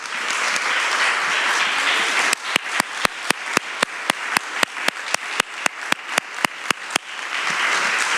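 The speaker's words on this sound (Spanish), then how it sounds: "invitarles a dar un aplauso a Valeria, a Claudia, a Andrea." Audience applause at a Spanish-language museum catalogue presentation, a steady wash of many hands that starts and ends the stretch, with a run of sharp, evenly spaced loud claps from one nearby person cutting through the middle.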